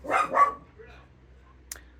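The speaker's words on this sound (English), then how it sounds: "That's next door's dog." A neighbouring dog barks twice in quick succession, fairly close and loud, followed by near silence with only a faint hum and a brief sharp click.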